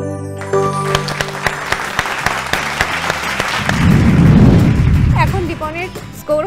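Loud audience applause on a family game show swells into a dense burst of clapping and cheering after music fades, then tapers off near the end.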